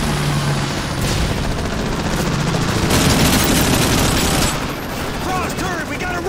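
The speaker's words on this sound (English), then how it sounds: "Keep laying down fire!" Dense sustained gunfire in Call of Duty Modern Warfare 3 during a vehicle escape, rapid rattling bursts layered with booms and shouted voices, loud and continuous throughout.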